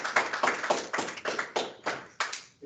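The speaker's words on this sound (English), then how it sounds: "Can we have a round of applause for them?" Audience applause at the close of a public forum discussion, a short burst of hand clapping that swells in rhythmic waves and fades out after under three seconds.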